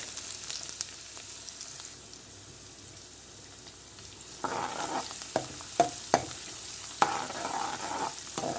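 Garlic cloves browning in hot oil, then chopped ginger added, for a dhaba-style kadhi pakora. It starts as a faint, quiet sizzle, then swells into louder frying with bursts of stirring and scraping clicks.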